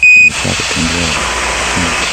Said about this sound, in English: Roger, 1201 alarm.